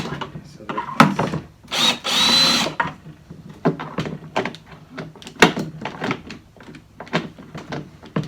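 Power drill loosening screws on a Bosch AXT 2000 HP garden shredder during disassembly, short whirring bursts mixed with clunks and knocks of parts and plastic, close up, with someone talking at times.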